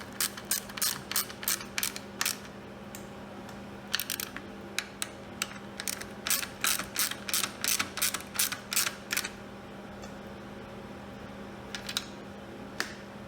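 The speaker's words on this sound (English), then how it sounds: "you want to pull on the brake and then retighten the 2 bolts." Bolts on a bicycle disc brake caliper being retightened with a tool, heard close up as quick bursts of sharp ratcheting clicks with short pauses between runs, over a steady low hum.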